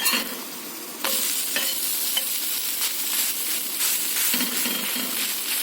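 Cucumber thalipeeth cooking uncovered in a pan on a low flame after being flipped, with a steady close sizzle of frying broken by several sharp spatula scrapes and taps.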